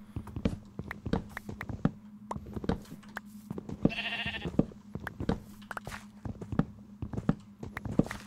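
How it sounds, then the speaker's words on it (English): Sheep bleat repeatedly in the Minecraft video game, short game-style cries recurring over a steady low hum, with soft footstep-like clicks scattered throughout and no one talking. "Excuse me, Mr. Sheep."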